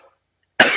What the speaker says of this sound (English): Taking a long time to get over this stupid cough.